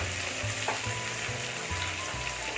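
Onions and tomatoes for mutton kulambu fry in a pan with a continuous close sizzle and occasional stirring scrapes, and no talking.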